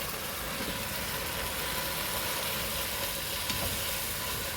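Spinach frying in oil with cooked tomato for Punjabi-style palak paneer gives a steady, moderate sizzle and crackle that runs through the whole stretch, with no talking.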